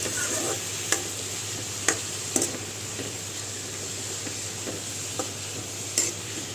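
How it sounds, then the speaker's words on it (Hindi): Spinach sautéing in a pan for a spinach and potato dish gives a steady close sizzle, with sharp clicks and scrapes of a spoon stirring it at irregular intervals, no voices. "भूनने के बाद सौटे करके जब ये थोड़ा हल्का हो जाएगा, लाइट हो जाएगा"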